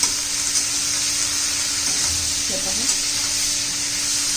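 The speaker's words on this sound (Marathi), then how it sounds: "छान असं तेलात आपण त्याला परतून घेऊया" Round gourd (dhemsa) pieces sautéing in hot oil give a steady, close frying hiss throughout, with a brief low stirring scrape near the middle.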